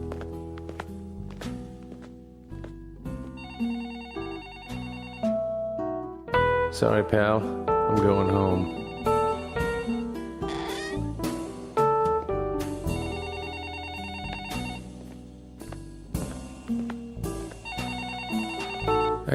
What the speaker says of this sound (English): I let the phone ring as I grabbed my jacket and hat off the rack.